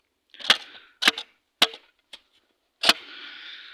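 Digging a metal detector find out of frozen winter ground at about -15 degrees in a snowstorm: five sharp, hard strikes at an uneven pace, the last trailing into a longer scraping rasp, with no talk.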